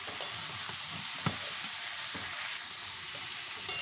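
Pointed gourd drops into a pan of spiced masala for a mixed vegetable and fish dish, setting off a soft, steady sizzle that is broken by a few light clicks from the pan and spatula.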